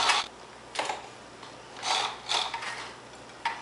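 A sewing machine stitching the neckline of a 1946 Vogue vintage dress, with short mechanical whirring bursts separated by pauses, close and moderately quiet.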